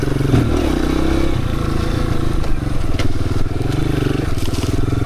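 An ordinary road motorcycle's small engine putters and revs unevenly while riding off-road over rough ground in a city, close by, with rattling and clattering throughout.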